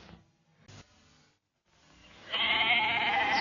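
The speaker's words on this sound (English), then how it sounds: "there's nothing more peaceful than the sight of grazing sheep" Sheep bleating in a pasture, a few separate wavering bleats close by, followed by a sudden loud burst of a different, noisier sound.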